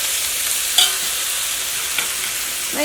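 Tomatoes fry in a hot pan with a loud, steady, close sizzle throughout, broken by a couple of brief clinks as they are stirred.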